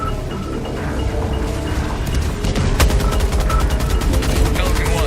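A light machine gun fires in a video game, starting as scattered shots and building into a loud, rapid, continuous burst of automatic fire in the second half.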